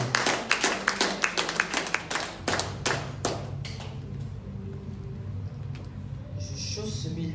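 A church congregation claps in acclamation, a rhythmic burst of loud, close hand claps for about four seconds that then fades into murmuring room noise and voices.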